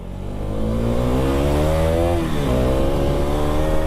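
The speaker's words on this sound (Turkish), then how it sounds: "Baksana egzoz var arabada. Duyuyorum yani sesini." A car with an aftermarket exhaust drones steadily with a throaty exhaust note, its pitch rising and dipping slightly as it revs, close and loud.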